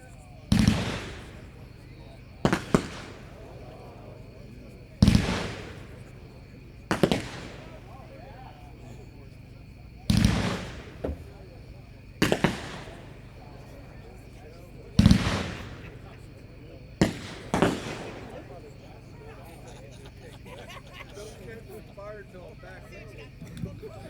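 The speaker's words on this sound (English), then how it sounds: "Number 11 is Golden Waterfall by Full Blown Fireworks, packed 4-1, 12 shots." A Golden Waterfall 12-shot consumer firework cake by Full Blown Fireworks fires about a dozen sharp bursts in an irregular rhythm, each loud crack followed by a crackling, sizzling tail.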